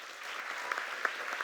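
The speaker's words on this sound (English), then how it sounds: "Please, let's give them a round of applause." A crowd at a Genesys Works Bay Area event applauds as two alumni come up to the podium, a soft, steady, somewhat distant patter of many hands with a few sharper claps standing out.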